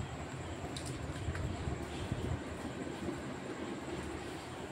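A toy train runs steadily and close by, giving a continuous low rumble and rattle with faint clicks throughout and no talking.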